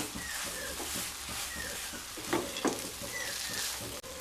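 Semolina upma being stirred in a pan over low-to-medium heat makes a rhythmic scraping and soft sizzle, with louder scrapes of the spoon against the pan midway, moderately quiet and close, and no one speaking.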